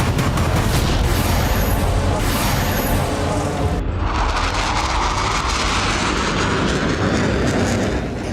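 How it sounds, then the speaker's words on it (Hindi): Fighter jets flying low roar loudly in a dense, continuous rush of engine noise, which cuts abruptly midway to a second, slightly different roaring pass. "दुश्मन जेट के टारगेट सिस्टम को चकमा देने के लिए जेट जमीन के करीब उड़ने लगे"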